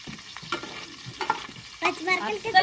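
Green chillies sizzle and splutter in hot oil, a close, crackling hiss with sharp pops that grow louder toward the end, alone without talk.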